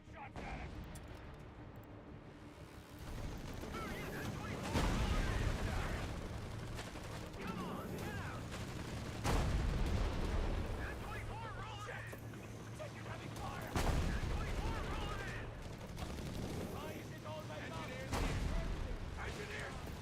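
Enemy gunfire in a video game battle, bursts of rapid shots and heavy booms recurring every few seconds over a dense, loud battle din, with voices shouting over it.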